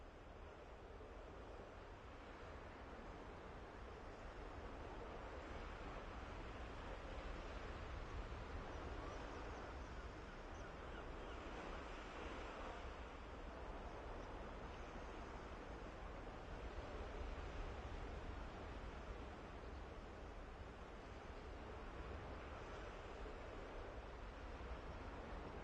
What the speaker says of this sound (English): It's windy out here on this one.